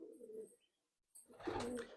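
Giribaz pigeons cooing close by, a soft low coo, then a short silence, then a louder burst of cooing and wing rustle.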